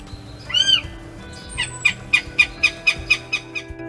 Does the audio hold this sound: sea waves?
no